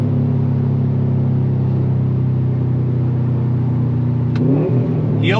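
Loud, close drone of a 2018 Subaru WRX STI Type RA engine pulling steadily toward red line, pitch rising gradually before a sharp shift and sweep near the end.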